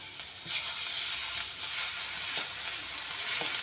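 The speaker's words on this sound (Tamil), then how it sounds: "வெங்காயத்தை நல்லா ப்ரௌனாக வர வரைக்கும் வதக்கி எடுத்துக்கோங்க" Onions sauté in a pan for an egg pepper masala fry, sizzling with a steady bright hiss and small crackling pops, close and continuous, and no one speaks.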